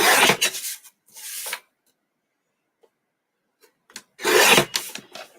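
Junk journal paper page being trimmed with a cutting tool, two short rasping cuts at the start and another burst near the end, close and fairly loud, separated by quiet.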